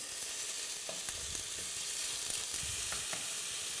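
Broken-up salmon medallion, still partly frozen, frying in a pan: a steady close sizzle with soft crackles and a few scraping stirs, no voices.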